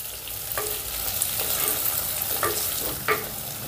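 Ginger, garlic and green chillies fry in hot oil, a steady close sizzle broken by a few sharp stirring scrapes, with no voices.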